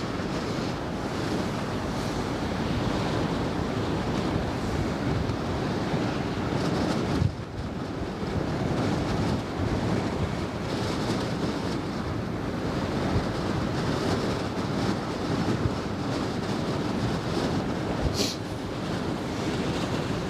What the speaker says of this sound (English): nice and windy indeed.